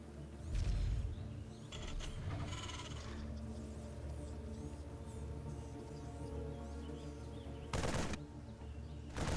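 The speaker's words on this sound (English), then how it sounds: "he's shooting at the unbuildable rocks" A StarCraft II Marine fires at unbuildable rocks in the game, producing rapid bursts of gunfire over a constant mechanical hum, with a short volley at the start and another near the end.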